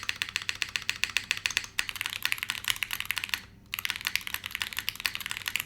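Fast, steady typing on a newly built Neo70 mechanical keyboard, close crisp clacks in a continuous rhythm with one brief pause, no talk.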